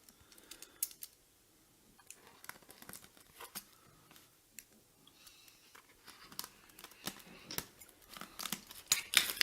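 Scissors snip through paper or packaging in quick, faint bursts close up, with soft crinkling and rustling between cuts and no talking.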